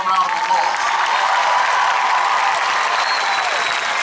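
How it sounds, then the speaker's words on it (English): A high school graduation crowd breaks into a steady, dense round of applause, a loud continuous wash of many hands clapping that fills the hall without pause. "Let's all give them a great heartfelt round of applause."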